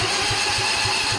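Small engine on a Husqvarna Z246 zero-turn mower cranking over in a steady, rhythmic churn, close and fairly loud throughout, with no voices.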